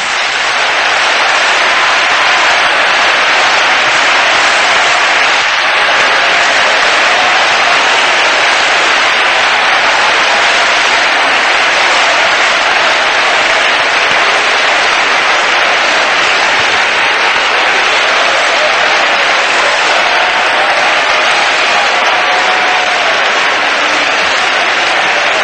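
A church congregation at a 1984 general conference claps in worship, a loud, sustained roar of many hands clapping together with crowd noise, continuous and unbroken for the whole stretch.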